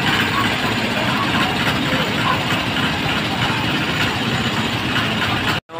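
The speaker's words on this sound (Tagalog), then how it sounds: "Makina sa pambot oh." Pumpboat engine running steadily at a town fiesta in San Fernando, Bukidnon, a loud continuous low mechanical drone with broadband noise that holds level throughout before cutting off abruptly near the end.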